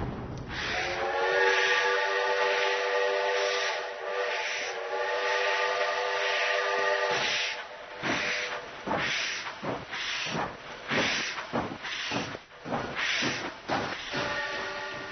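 A steam whistle blows a long harmonic tone for several seconds, then a locomotive chuffs in rapid, rhythmic bursts as it pulls away.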